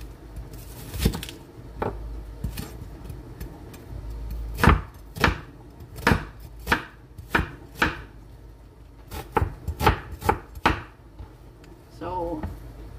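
Onions are sliced with a knife on a board in a home kitchen, a run of crisp, evenly spaced chops, some quick and some spaced out, with quiet background noise and occasional faint speech.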